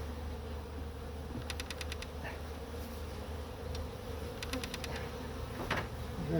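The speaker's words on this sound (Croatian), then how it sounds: "Gledamo da ne gnječimo pčele koliko je to moguće." Honey bees hum steadily and close around an open Farrar hive during brood expansion, a continuous low drone with occasional faint clicks and taps from handling the hive parts.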